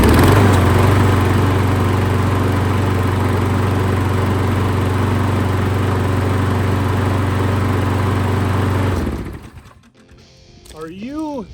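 A Toro Recycler lawn mower engine, fitted with a newly replaced carburetor, runs at a loud, steady drone for about nine seconds, then cuts out, and a voice follows.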